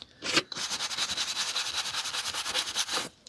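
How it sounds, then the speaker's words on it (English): Vintage Pelican paperback books being brushed, a fast run of soft, rhythmic bristle strokes heard close up, steady and unbroken for about three seconds, with no talking. "we'll give them a brush."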